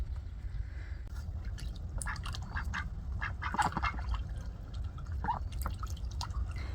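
Ducks quack and dabble at a dripping garden water faucet over wet ground, with scattered soft quacks and splashy drips against a steady low background rumble, no talking.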